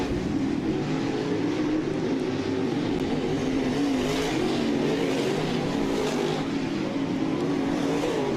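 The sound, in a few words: race cars on a speedway backstretch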